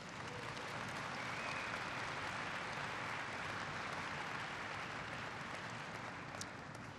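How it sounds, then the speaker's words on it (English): A steady, dense audience applause fills the room, loud and continuous from start to finish at a manufacturing-themed address, with no voices breaking through. "That's worth applauding."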